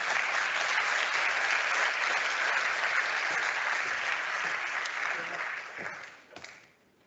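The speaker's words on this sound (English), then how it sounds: "Can I have a round of applause, please, for Simon O'Connell?" An audience at a development-policy panel discussion applauds a speaker. The dense, steady clapping holds for about five seconds, then thins and fades out, ending with a few scattered claps.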